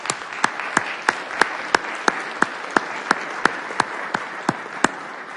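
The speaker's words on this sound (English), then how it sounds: "Let's give a round of applause to our two Sharon brothers." Applause at a city council meeting in Irvine honouring two brothers: a steady bed of clapping from the room with one loud nearby clapper standing out in a regular, even beat.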